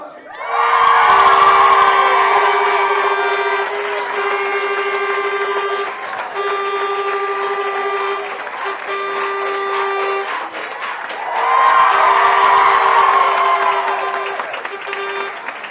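A large crowd cheers, whoops and applauds at a Sligo versus Tyrone under-18 hurling cup presentation, loud and sustained in swelling waves, with children shouting and a steady whistle-like tone running through the roar.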